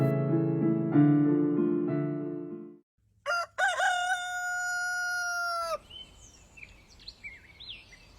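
A rooster crows loudly and close in the morning at a simple stilt house in a village, one long call followed by a second high drawn-out crow, then faint clucking and background noise.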